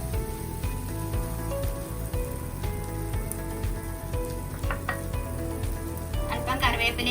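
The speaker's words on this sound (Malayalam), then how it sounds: "അപ്പൊ ഇങ്ങനെ കുറച്ചധികം സമയം ഇത് നല്ലതുപോലെ ഒന്ന് റോസ്റ്റ് ചെയ്തെടുക്കണം നമുക്ക്" Prawns roasting Kerala style in coconut oil with curry leaves, a steady dense sizzle and crackle of frying throughout, close and fairly loud, with occasional scraping stirs and no talk.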